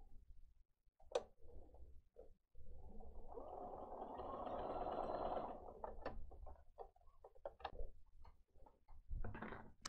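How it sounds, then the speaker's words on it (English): A palm leaf item is sewn, with a burst of mechanical whirring lasting a few seconds, surrounded by sparse clicks and handling knocks nearby. "we're going to sew the other one."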